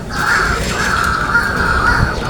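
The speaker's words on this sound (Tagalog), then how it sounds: "Ang ingay ng mga ibon." Crows cawing repeatedly in a harsh, continuous chorus, fairly loud over outdoor background noise.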